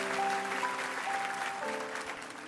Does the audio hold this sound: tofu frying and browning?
no